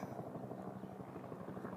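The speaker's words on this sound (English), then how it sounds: "There is a helicopter and there is a flock of birds all flying above my head." A helicopter passes overhead outdoors, its rotor producing a faint, continuous low throbbing drone that holds steady throughout, with no talking.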